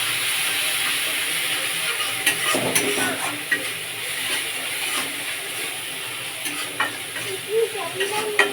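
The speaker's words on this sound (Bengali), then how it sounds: "স্বাদ মতো নুন দিয়ে ভালোভাবে নেড়ে নেব।" Snake gourd frying with salt in an oil-filled pan hisses steadily while a utensil stirs and scrapes through it in irregular strokes, close and fairly loud.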